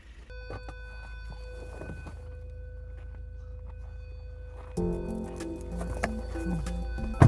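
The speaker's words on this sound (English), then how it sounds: "that door open sound, that's annoying" A door-open warning chime inside a 2015 Subaru WRX sounds as steady tonal beeping, with cabin noise and a louder stretch of engine and car sounds joining partway through.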